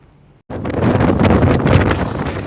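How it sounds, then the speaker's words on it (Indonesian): Strong gusty wind sweeping across a beach in Mamuju, West Sulawesi, during bad weather, bursting in abruptly after near silence and then roaring loudly and continuously as it buffets the microphone. "Cuaca buruk berupa angin kencang menerjang Kabupaten Mamuju, Sulawesi Barat."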